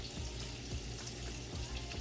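Sausages fry in a pan with a continuous quiet sizzle and crackle, broad and hissy, with small pops scattered through it.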